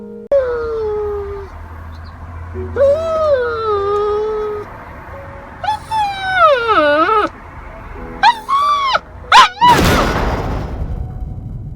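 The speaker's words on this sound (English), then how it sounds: "It is the death cry, a sound that once heard is never forgotten." An American Bully puppy gives a death cry: a series of high, wavering whimpers and drawn-out howling yelps in separate bursts, close and loud, ending in a harsher strained squeal.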